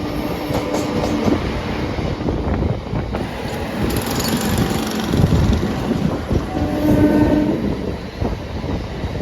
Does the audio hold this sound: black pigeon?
no